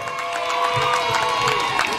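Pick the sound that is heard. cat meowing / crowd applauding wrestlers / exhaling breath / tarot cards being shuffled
crowd applauding wrestlers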